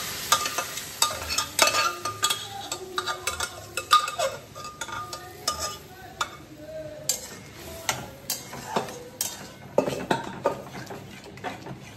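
Boiled red lentils stirred in a frying pan, repeated scraping and clinking of a utensil against the pan over a faint sizzle, fairly close and moderately quiet.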